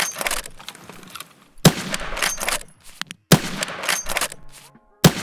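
Bolt-action rifle shots in the Escape from Tarkov video game, three sharp, loud cracks spaced about a second and a half apart, each followed by a ringing tail and mechanical handling noise.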